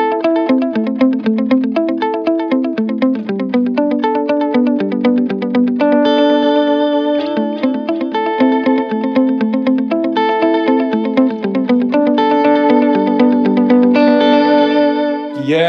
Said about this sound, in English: Now we have a vibrato on the delay repeats only.